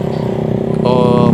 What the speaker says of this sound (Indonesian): motor yang ngangkut penumpang dari mobil Sigra kalau nggak salah, yang nggak kuat nanjak